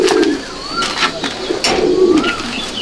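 Pigeons, including Tiger Line birds, coo in a large Andhra pigeon loft, soft repeated rolling coos overlapping close by with light fluttering and shuffling, no talking.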